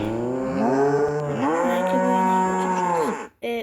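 A cow moos in long drawn-out lowing calls, loud and close, with a short break before a final brief moo.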